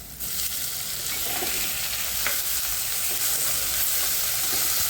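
Chopped tomatoes and a green chilli dropped into hot oil for a pea and paneer kofta curry, bursting into a loud, steady sizzle with hiss and stirring scrapes, close and continuous.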